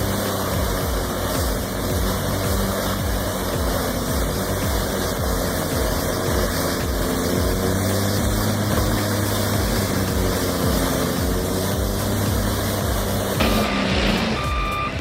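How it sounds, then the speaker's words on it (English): An industrial wood chipper's diesel engine and drum run with a loud, steady, close droning roar that holds throughout, while a vehicle's reversing alarm beeps repeatedly over it. "its drum launches into motion, and within seconds, tons of wood are reduced to uniform chips"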